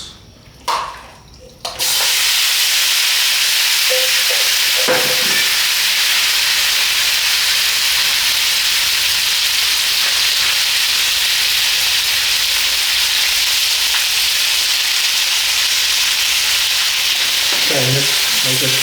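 Marinated lamb chops hit a hot pan and erupt into a loud, sustained sizzle that holds steady and close, after a few brief kitchen clatters at the start and an occasional light scrape near the end.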